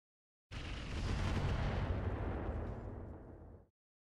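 A long-range missile salvo fires in the mech combat game Roguetech, a loud sustained roaring blast lasting about three seconds, booming from the start and fading into a hiss.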